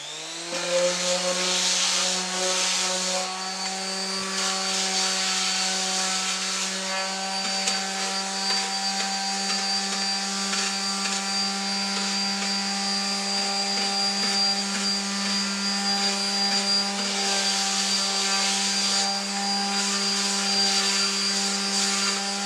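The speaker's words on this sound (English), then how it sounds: "I'm going to go ahead and sand down this edge just a little bit." A power sander smooths the edge of a wooden bench seat during reupholstery with a loud, steady motor whine that runs continuously and close by throughout.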